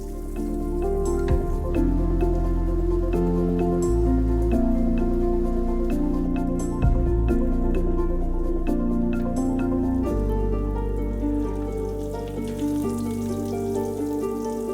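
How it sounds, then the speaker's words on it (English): Potato korokke fry in grapeseed oil with a dense, steady crackle and bubbling sizzle that continues close and loud for the whole stretch, with no talking. "Carefully fry the korokke for about 45 seconds on each side."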